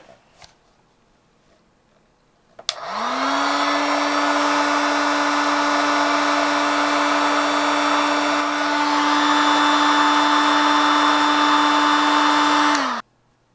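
A heat blower aimed at a LoRa transmitter switches on with a click and runs for about ten seconds as a loud, steady whirring whine with rushing air, then cuts off abruptly, with no voices.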